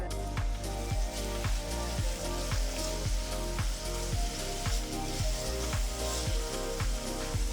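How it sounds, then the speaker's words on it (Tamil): Loud, steady sizzling of chopped onion and green chili frying in hot oil continues throughout, with a regular low thumping pulse underneath. "எண்ணெய் சூடானதும் பொடுசா நறுக்குன ஒரு பெரிய வெங்காயம், பொடுசா நறுக்குன 2 பச்சை மிளகாய் சேர்த்து வதக்குங்க."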